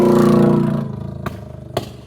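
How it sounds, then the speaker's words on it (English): A motorcycle revs loudly and passes close by, its engine note dropping away as it recedes, followed by a couple of sharp clacks. "Oh, that's a motorcycle. I thought it was a car."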